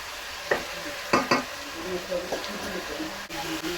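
Rohu fish curry with potatoes and beans stirred in a pan, with a low sizzle beneath a few sharp spoon scrapes and knocks while someone talks over it.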